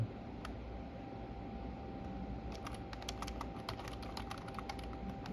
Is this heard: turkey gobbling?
no